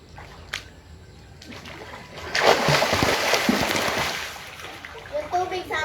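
Cold water splashing during a morning bath, a soft trickle that swells into several seconds of close, loud splashing and pouring, then fades into a few scattered drips and light movements, with voices in the background.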